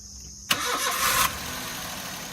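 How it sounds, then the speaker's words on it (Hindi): A Maruti Alto K10 with an engine missing problem, under overhaul, fires up on its self-starter: a sharp crank-and-catch burst, a loud rough rev for under a second, then a steady close idle. "करो स्टार्ट करो, सेल्फ लगाएंगे गाड़ी में"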